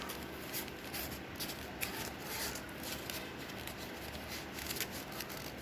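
A sheet of paper being folded inward for a bracelet craft, soft close crinkling and brushing with small crisp creasing taps, faint and continuous.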